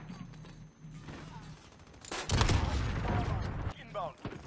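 Gunfire in a first-person shooter video game, played with a homemade cardboard gaming mouse: a burst of rapid, loud automatic shots erupts midway over quieter game sounds and fades out.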